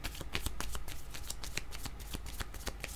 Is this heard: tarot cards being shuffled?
yes